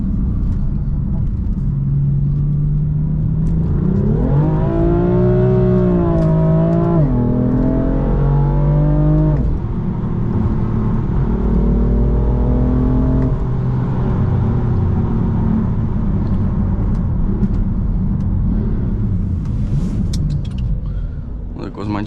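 BMW F82 M4 Competition revving hard and accelerating in a Chicago street, its loud engine note rising in pitch through gears with a sustained low rumble, staying close and continuous throughout.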